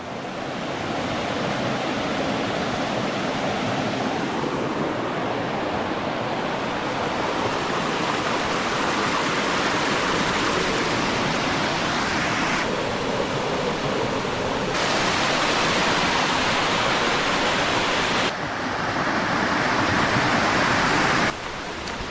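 A small, shallow stream of water flows over a rock on its way toward the Periyar river in rural Malayattoor, a dense, steady rushing wash heard up close and continuous, with no voices.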